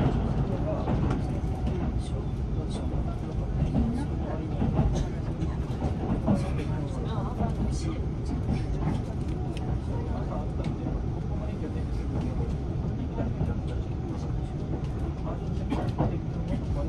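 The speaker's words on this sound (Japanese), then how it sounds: "列車は天竜川を渡っています。" Iida Line limited express Inaji crossing the Tenryu River bridge, heard from inside as a steady low rumble of the train with faint rhythmic wheel clicks running continuously.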